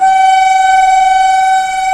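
A train's horn sounds at a railway station near Kalyani, a loud, steady near tone with harmonic layers held unbroken for about two seconds.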